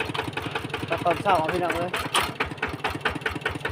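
A farm tractor engine runs at a steady, rumbling idle close by during a morning of bundling harvested rice, with someone talking over it throughout.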